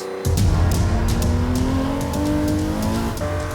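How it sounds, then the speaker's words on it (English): A Porsche 917 race car's 5-litre 12-cylinder, 621-horsepower engine roars loudly and rises in pitch as it accelerates, close and continuous. "The 5-litre 12-cylinder engine produces 621 horsepower"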